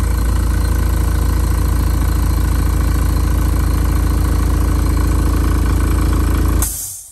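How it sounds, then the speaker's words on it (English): A loud, steady mechanical motor hum with a rattling vibration from an onboard air compressor on a motorcycle trailer runs continuously close by, then cuts off abruptly near the end. "I'm not talking loud because the compressor is running."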